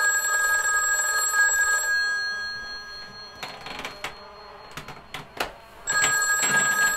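A telephone in a horror video game rings in two bursts of bright electronic trilling. Between them come scattered clicks and small knocks in a quiet gap.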